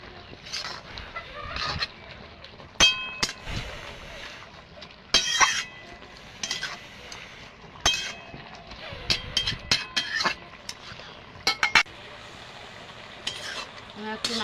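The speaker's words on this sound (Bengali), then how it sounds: "আমি এবার একটু নাড়িয়ে দেব।" A spatula stirs spinach in a cooking pot with a little water before fried small puti fish are added: irregular scraping clatters over a soft sizzle, close and moderately loud.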